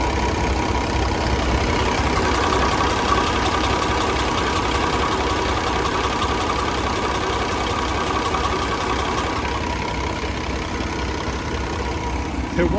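Paccar 510 hp diesel in a 2018 Peterbilt 389 truck idling, a steady, loud low rumble with a mid-range drone that holds evenly throughout, with no talking.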